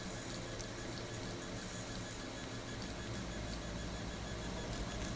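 A printer runs continuously at close range, a dense, even mechanical whirring and clatter with a faint rhythmic ratcheting texture that holds steady throughout, with no voices over it.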